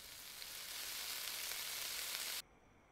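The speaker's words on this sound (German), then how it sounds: "Lachsfilet brutzelt sich noch ein ab." A salmon fillet sizzles in a frying pan in the game Cooking Simulator, a steady, fairly quiet hiss of frying that stops abruptly near the end.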